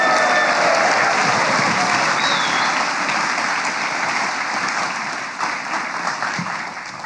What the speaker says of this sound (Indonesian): Mari kita sambut semeriah-meriahnya dengan tepuk tangan yang membahana untuk Alamanda Santika.